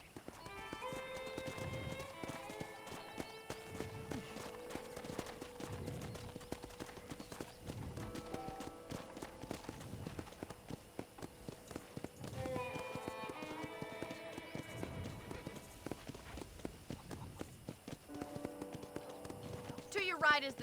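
Horse hooves from a ride in the Red Dead Redemption video game, a steady rhythmic clip-clop that continues under an ongoing conversation and a music score, with occasional snorts.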